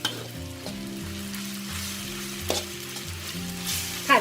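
Mee sua noodles stir-fried in a pan, a constant close sizzle broken by light spatula flicks and scrapes, with a couple of sharper clanks near the middle and end.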